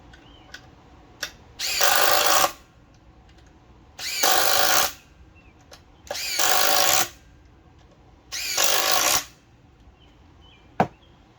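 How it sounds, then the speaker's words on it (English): A DeWalt DCF840 impact driver drives screws in four loud, evenly spaced bursts of rapid hammering, each lasting under a second, close up with quiet pauses between and no talking. "I'm going to just run a couple nails in, or fasteners here, screws"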